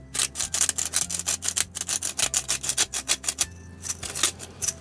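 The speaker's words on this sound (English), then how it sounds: "Now I'm going to heavily salt this. Pink Himalayan, as always with me." A hand grinder cracks pink Himalayan salt over a pot for potato cakes, producing a close, steady run of rapid rhythmic ratcheting crunches with one brief pause.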